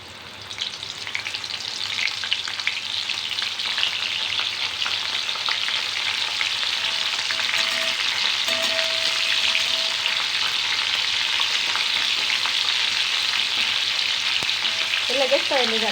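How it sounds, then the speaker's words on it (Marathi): A batch of soybean chunks deep-frying in hot oil gives off a loud, continuous bubbling crackle that holds steady throughout. "तर मी अशाच प्रकारे सर्व सोयाबीन तळून घेते।"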